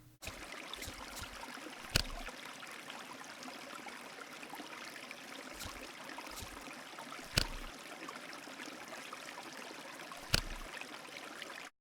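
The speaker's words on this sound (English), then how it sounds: "The background sounds for this puzzle is trickling water." Soft, steady trickle of flowing water playing as quiet ambience in a nature-themed papercut puzzle game, with a few brief faint clicks standing out at intervals.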